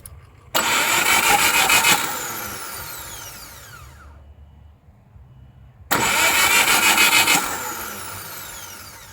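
Car engine cranked and started twice, each attempt a sudden loud roar that revs and then slowly dies away, with a quiet gap between the two.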